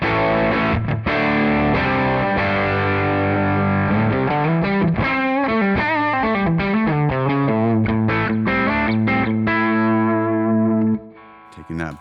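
An electric guitar played through a Tonex tone model set to extreme settings gives a heavily distorted, buzzy tone with sustained chords and shifting notes, loud and continuous before fading at the end.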